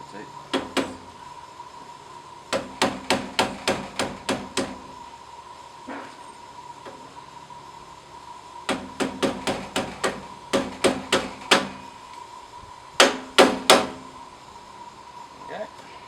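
Pins are hammered in while assembling an AirScape 4.4e whole house fan, with sharp metallic taps in quick bursts of several blows separated by pauses, loud and close.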